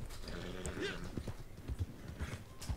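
Horse hooves clip-clop at a slow ride in the Red Dead Redemption Online game, a steady, close rhythm of hoof beats with a little low background noise.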